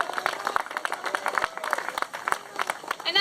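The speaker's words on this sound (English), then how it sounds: "So give them a big round of applause again." An audience claps at a political labor gathering, a short burst of many hands applauding in quick irregular beats, fairly close and loud.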